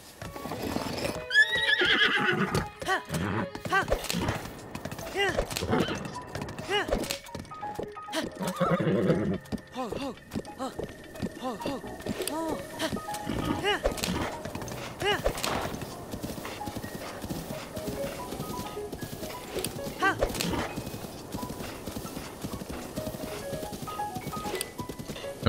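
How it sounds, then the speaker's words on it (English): Horse neighs and clip-clopping hooves from a horse in Zelda: Breath of the Wild, a loud whinny early on followed by steady, close hoofbeats that continue throughout alongside game sounds. "It might be time to get off the horse."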